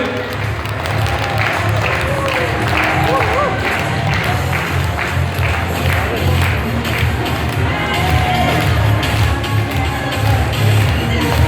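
During a stage ceremony where a cooperative chairman hands over apartment keys, the crowd keeps up sustained clapping with some cheering, mixed with loud music and scattered voices talking throughout.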